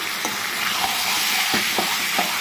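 Mutton pieces with fat sizzle steadily as they are sautéed in a pan, with a few soft stirring scrapes over a constant close frying hiss.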